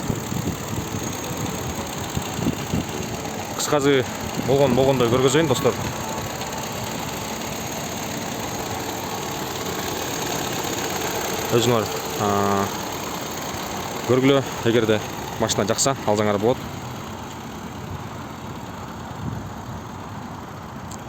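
A Kia Ceed car engine idles with a steady low hum and rattle, close by, while someone talks intermittently over it.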